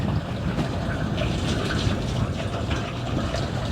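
Liquid pours steadily into a sheep liquid feeder, a continuous close-up gushing and splashing rush with no breaks.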